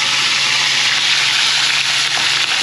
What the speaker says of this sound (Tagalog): Prito natin.